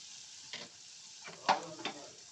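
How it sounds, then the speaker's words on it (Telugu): Coriander, cumin, pepper and garam masala powders are stirred into a hot pan for kushka, a faint sizzle broken by a few distinct spoon scrapes. "కొంచెం ధనియాల పొడి కొంచెం జీలకర్ర పొడి కొంచెం మిరియాల పొడి కొంచెం గరం మసాలా పొడి వేసిన వేసిన తర్వాత ఇలా కలిపెట్టుకోవాలండి"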